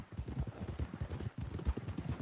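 Horse hooves clip-clop in a fast, steady gallop in Red Dead Redemption 2, a continuous rhythmic pounding that runs through the whole stretch with no talk over it.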